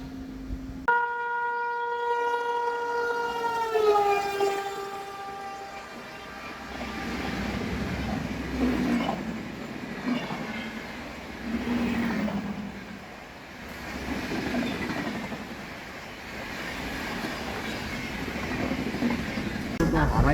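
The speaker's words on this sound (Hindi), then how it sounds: "सामने से कोई दूसरी ट्रेन भी आ रही है" A second train approaches on an Indian main line from the opposite direction, its loud horn blaring with falling pitch at the start, then a steady rushing roar and rhythmic wheel noise as it passes close by.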